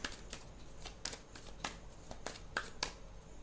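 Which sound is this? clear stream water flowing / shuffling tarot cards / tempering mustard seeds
shuffling tarot cards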